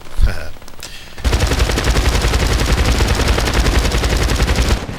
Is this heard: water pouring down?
no